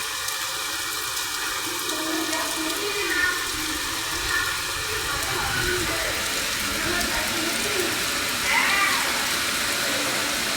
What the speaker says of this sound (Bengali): কি দারুণ লাগছে বৃষ্টিটা।